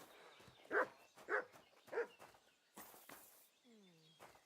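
A dog in a medieval video game gives three short, evenly spaced barks close by, followed by fainter footsteps and a brief rising chirp.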